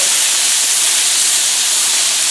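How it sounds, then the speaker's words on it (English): Meat searing on a Blackstone griddle for goulash, a loud, dense, continuous close sizzle and hiss with no break and no talk. "And now this meat, I just want to cook it real fast. Just to sear it basically."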